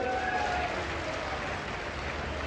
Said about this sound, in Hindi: जरा राम सब ताली बजाओ बाबा के लिए।